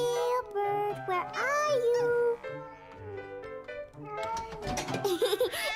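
Gilbert, a cartoon cat, lets out several high, rising meows, mixed with other voices speaking in a children's animated scene.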